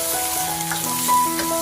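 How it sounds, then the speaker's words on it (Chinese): Goose meat stir-frying in camellia oil in a small wok, a loud, continuous close sizzle with faint tonal hums and light stirring noises. "我用的是山茶油，将鹅肉倒下去爆香。"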